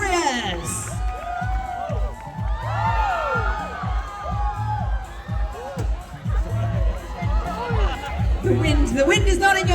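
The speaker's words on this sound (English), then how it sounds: "Let's give them one more round of applause, please." Crowd cheering and shouting with children's voices and whoops at the Tour de France Prudential Singapore Criterium after Bahrain Victorious is introduced, a loud, dense roar of many voices running throughout, with an announcer talking over it.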